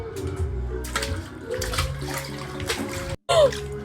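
Water splashes and sloshes in a backyard swimming pool as someone bathes, a steady watery wash with a sharp surge near the end, mixed with other background sound.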